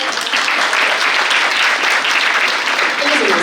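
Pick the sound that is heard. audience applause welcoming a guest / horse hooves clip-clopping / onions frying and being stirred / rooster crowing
audience applause welcoming a guest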